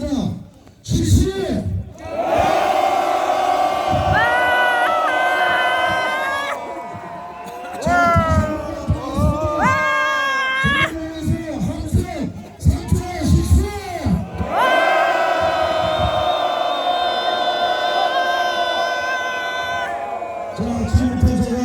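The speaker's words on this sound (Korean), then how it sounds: "전망에 대하여 함성 3초간 실시한다." A crowd of protesters at a Korean election rally roars in long, loud collective shouts, several separate bursts of massed yelling with brief pauses and scattered voices in between.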